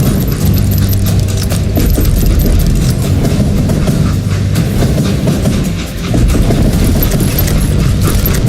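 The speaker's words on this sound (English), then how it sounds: "It was then that Jesse detached the express car from the rest of the damn train" A train runs steadily in the video game Call of Juarez: Gunslinger, a loud continuous rumble with rhythmic clattering wheels and faint hoofbeat-like clip-clop throughout.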